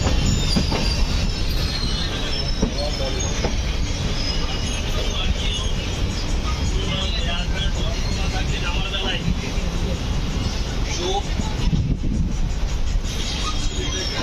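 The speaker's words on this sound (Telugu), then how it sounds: "మన ట్రైన్ ఇప్పుడే స్లోగా ప్లాట్ఫామ్ మీదకి అయితే వెళ్తుంది టాటానగర్ జంక్షన్లోకి." Gitanjali Express rolling slowly into Tatanagar Junction, with a steady rumble of rail wheels and carriage noise and occasional faint squeals, continuous and close throughout, with some voices in the background.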